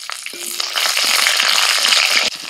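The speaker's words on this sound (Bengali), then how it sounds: "তেলের মধ্যে ফোড়নে দিচ্ছি একটা তেজপাতা, গোটা জিরে, এবার দিচ্ছি 5-6টা চেরা কাঁচা লঙ্কা" Bay leaf, whole cumin and slit green chillies hit hot oil with a sudden loud, crackling sizzle that holds steady and close, with small pops scattered through it.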